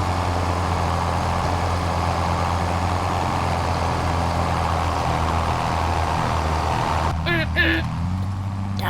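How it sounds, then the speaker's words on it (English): A John Deere 4440 tractor engine labors steadily uphill pulling a loaded corn wagon during harvest, a loud continuous low drone that holds throughout with a brief shift in tone near the end. "I don't know if the 4440 will be able to pull up this hill and road here."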